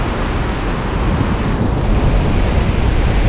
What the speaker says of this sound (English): That's the fire hose, that is Franklin Falls.